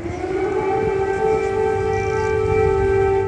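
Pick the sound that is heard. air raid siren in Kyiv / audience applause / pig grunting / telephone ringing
air raid siren in Kyiv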